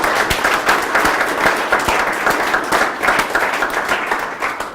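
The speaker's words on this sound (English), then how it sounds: "let's give Paul a round of applause." Audience applauding presenter Paul Gough after his presentation, a dense, lively burst of many hands clapping close by, sustained evenly for several seconds with a few sharper individual claps standing out.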